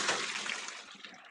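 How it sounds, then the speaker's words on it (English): Pasta water from a pot of maccheroni poured through a strainer into a kitchen sink: a soft, steady rushing splash, faint and continuous, with no voices. "I'm going to strain it quick."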